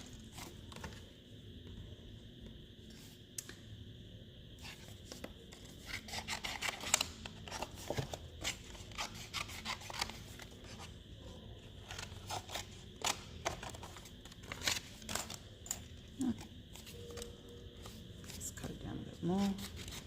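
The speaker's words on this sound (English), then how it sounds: "Find some scissors." Scissors snip through thick cardstock at a crafting table, giving quiet, irregular crisp cuts with paper rustling and handling noises throughout.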